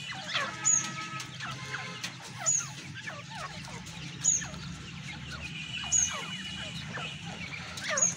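Young white partridge chicks chirp and peep repeatedly in a busy, overlapping chorus, with sharper calls recurring every second or so over a low background hum; faint voice barely present.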